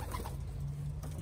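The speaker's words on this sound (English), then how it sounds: "I got birds flying all over my head." Young racing pigeons coo softly close by, with light rustling and fluttering in a brief, quiet burst.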